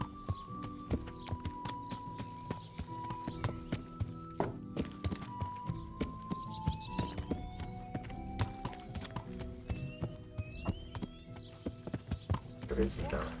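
Horse hooves clip-clop in Kingdom Come Deliverance, a steady series of sharp hoof strikes at walking pace under game music, with a speaking voice and occasional horse sounds alongside.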